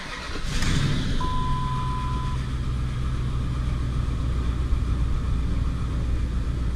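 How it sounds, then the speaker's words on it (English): A Dodge truck engine cranks and fires, then settles into a steady low rumbling idle, close and loud, with a brief dashboard chime tone just after it catches. "let's go back in the truck and fire it up"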